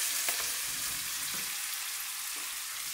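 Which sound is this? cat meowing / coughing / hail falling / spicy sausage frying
spicy sausage frying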